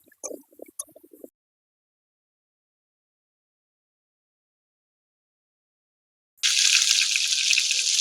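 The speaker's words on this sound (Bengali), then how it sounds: "আলুগুলো পেঁয়াজের সঙ্গে ভালো করে ভেজে নেব।" Potatoes and onions frying in oil, a bright steady sizzle that starts abruptly after a long silence and continues close and loud, with a few brief clinks at the very start.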